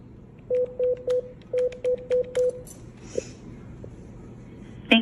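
Touch-tone keypad tones dialing a call to the White House comment line: seven clean, evenly spaced beeps in two quick groups, then a quiet line with a faint click and a brief tone at the end.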